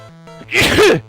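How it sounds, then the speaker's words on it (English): A single hard human sneeze, loud and close, preceded by a brief inhale over a faint electronic hum. "I sneezed pretty hard on myself."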